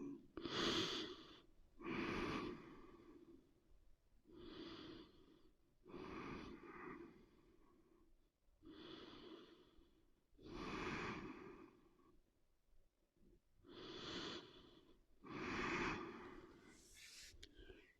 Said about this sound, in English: And deep breathing